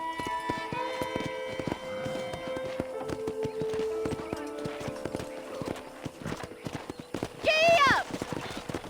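A horse in Red Dead Redemption clops along on its hooves in a steady rhythm, ending with a loud whinny near the end, over game music and a voice talking.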